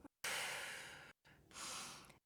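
Long, deep breaths held in a yoga forearm plank during a vinyasa toning session: a breathy exhale, a short pause, then another slower breath, close and soft, with no talking.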